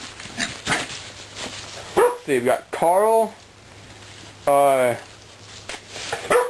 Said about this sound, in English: Yes, and there's the puppy.